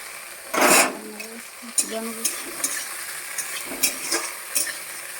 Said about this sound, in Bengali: কাজুগুলো ভেজে নিচ্ছি সবুজ মটরগুলো একটু ভেজে নেবো হালকা